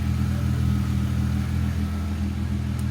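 Peugeot Tepee V6 car engine running at a steady idle, a constant low hum with an even drone, close by and alone with no talking.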